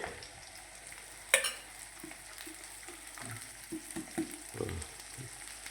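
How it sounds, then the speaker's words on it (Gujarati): Shredded cabbage dropped into a hot pan and stir-fried with green garlic and spices, a soft continuous sizzle with a sharp clatter as it goes in, then scattered scraping and stirring knocks. "હવે આપણે કોબીજ નાખી દઈએ કોબીજ"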